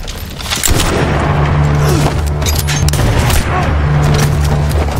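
Gunfire in an action film scene, dense bursts of shots and booms layered over a loud, steady rumble, with a heavier crack near the start.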